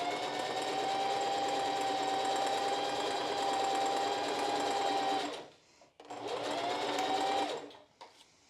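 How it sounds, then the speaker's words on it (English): A sewing machine stitching a 1/4 inch seam on a strapless bra, running steadily and close for about five seconds, stopping briefly, then whirring again for a shorter run. "we're going to take this to the machine and again sew it at a 1/4 inch seam allowance"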